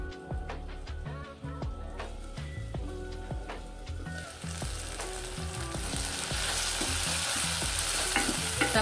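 Tomatoes with garam masala cook in a covered pan, with scattered close taps and clinks at first, then a soft, even sizzle that grows steadily louder and fuller toward the end. No one speaks.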